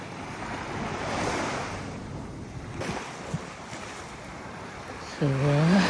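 Surf rolls onto a beach in Canada, a broad, steady rush of waves with wind noise that swells and eases, a soft thump midway and a short tonal call breaking in near the end.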